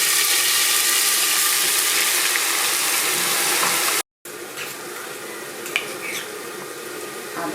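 Spice paste hits hot oil for a chickpea curry with whole spices such as bay leaf, cardamom, cinnamon, clove, cumin and dried chilli, giving a loud, steady sizzle that briefly stops and then resumes more softly with scattered crackles.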